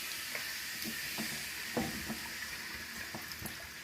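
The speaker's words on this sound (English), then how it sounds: "So there you go, deglazing our beautiful black cast iron skillet." Red wine deglazing beef in a black cast iron skillet, giving a steady soft sizzle and hiss with scattered small pops and stirring scrapes, fairly faint and close.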